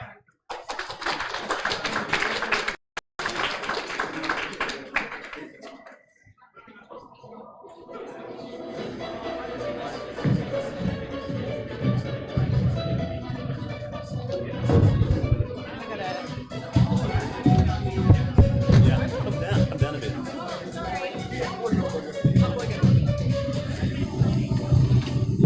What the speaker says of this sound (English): please give a big round of applause and welcome our speakers to the stage